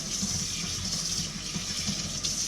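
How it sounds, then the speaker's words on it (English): Tap water runs steadily into a sink as pieces of smoked trout are rinsed off, a constant close splashing stream with no talking over it. "take each piece, take it out, run it under some water"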